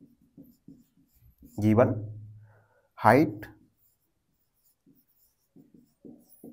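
A pen writes out an eighth-grade math solution on paper. Faint, scattered scratching strokes come at the start and end, with a person speaking briefly in between.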